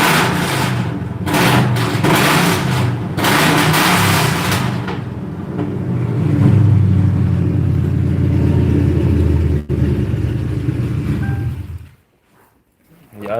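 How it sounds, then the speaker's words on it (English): A car engine rumbles loudly up close with a speaker's voice over it, the revs rising and swelling through the middle before the engine cuts off into near silence. "I'm gonna go ahead and get this thing a quick rev"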